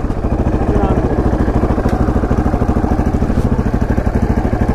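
A KTM LC4 640 single-cylinder motorcycle engine runs close by on a test ride, giving a loud, steady rapid thumping throb that holds at an even pace throughout.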